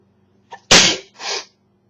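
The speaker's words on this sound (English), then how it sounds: "I just sneezed again, and snot came." A single wet human sneeze: a short intake, then a loud, explosive burst followed by a softer trailing exhale, close up and alone with no talking.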